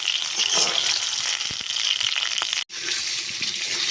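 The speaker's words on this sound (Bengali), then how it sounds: "তোমরাও এভাবে লাল লাল করে ভাজবে পটলগুলোকে।" Pieces of pointed gourd (potol) sizzle hard in hot oil as they fry to a reddish brown, a dense, continuous crackle close by with one brief cut in the sound near the end.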